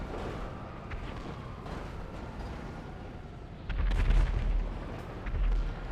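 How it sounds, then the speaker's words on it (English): Explosions rumble in the online game GTA Online, a low continuous booming that swells into heavier, louder blasts partway through, with no voices. "I hear a lot of explosions somewhere though"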